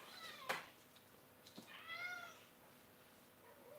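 A cat that has just gone out into the snow meows faintly twice, with a sharp drawn-out cry followed by a softer one over quiet background hiss.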